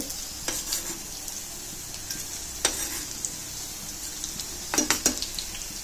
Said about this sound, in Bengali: বন্ধুরা আমি এখন কাবাবগুলোকে উল্টিয়ে দিব একটু।